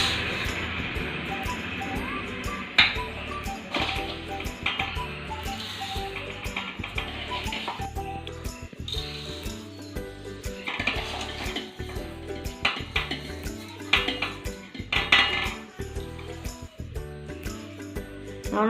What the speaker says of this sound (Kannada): ಈಗ ಅಕ್ಕಿ ಹಾಕೊಳ್ಳೋಣ.